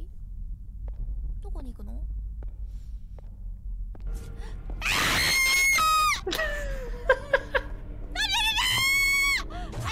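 A VTuber screams during a horror game, with a sharp, loud shriek and several strained high cries breaking out of quieter talk and gasps over background game sound.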